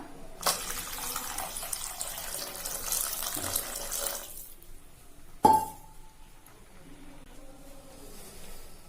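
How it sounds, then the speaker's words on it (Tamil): Water pours steadily into a pot of coconut-milk rasam being cooked Nagercoil style for about four seconds, then stops, followed by a sharp metallic clink of a utensil and quiet kitchen sounds. "இதுக்கு கூடவே ரசத்துக்கு தேவையான அளவு தண்ணி விட்டுக்கலாம்."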